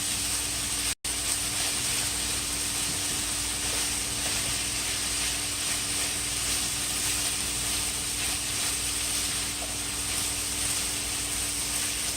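Jalapenos and ginger hit a hot stir-fry pan of chicken and bitter melon, raising a loud, steady sizzle and hiss that runs unbroken throughout with no voices.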